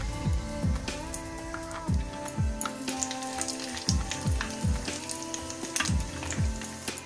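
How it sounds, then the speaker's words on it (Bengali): Koli papad frying in hot oil, a loud close sizzle with bubbling and repeated splashy bursts as pieces drop in and are turned, rising and falling throughout without any talk. "5 থেকে 6 সেকেন্ডের মধ্যেই ভাজা হয়ে যাচ্ছে। তুলে নেবে,"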